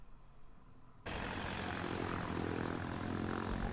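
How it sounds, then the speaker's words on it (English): Propeller plane engine droning steadily and loudly after a quiet first second, a continuous broadband roar with no voices. "you'll start to hear that this is the prop plane"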